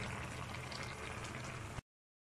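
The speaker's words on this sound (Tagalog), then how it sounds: "Tapos itong isa, kumukulo na rin siya." A pot of soup at a rolling boil on a stovetop, a steady dense bubbling and hissing close by that runs evenly for nearly two seconds and then cuts off abruptly.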